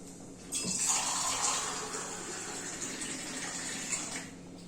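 Water pours steadily from a glass and splashes into a cooking vessel for a few seconds, a soft continuous gurgle at moderate distance, tapering slightly toward the end.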